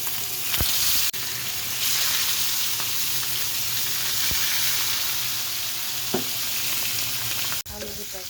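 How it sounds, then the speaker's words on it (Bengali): Fish frying in a pan gives a steady, close, hissing sizzle throughout, broken by a few sharp knocks and clicks and one abrupt dip near the end; no talk. "আমি মাছটা ভেজে নিচ্ছি"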